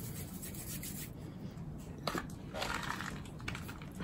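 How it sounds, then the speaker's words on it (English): A dried gourd birdhouse being hand-sanded, soft rough rubbing strokes at close range with a few brief scraping bursts, quiet and without talk. "I can sand it."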